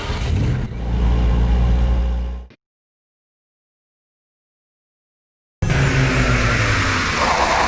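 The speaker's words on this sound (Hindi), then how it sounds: "स्टार्ट कर गाड़ी, चला।" A car in a comedy film scene starts and drives off, with a loud engine running and revving, a sudden stretch of silence, then the engine roaring back in.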